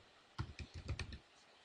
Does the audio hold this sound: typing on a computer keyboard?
yes